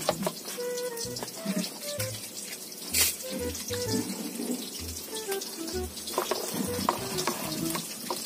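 An eggplant is washed under a running kitchen tap for sautéed eggplant. Water streams steadily into the sink with splashes and handling noises, and a person talks over it.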